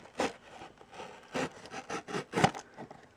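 A blade slices through a LEGO Microfighters cardboard set box in several short scraping strokes, quiet and close, each cut a brief rasping burst with pauses between.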